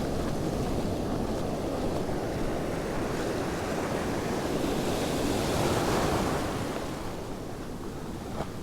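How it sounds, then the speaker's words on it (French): Ocean surf breaks steadily on a beach during surfcasting for spotted sea bass, with a building swell; loud continuous wash and roar of waves close by, swelling around the sixth second, with wind buffeting the microphone and no talk. "Alors faire attention aux vagues hein, quand même. Il y a une bonne houle qui se lève là."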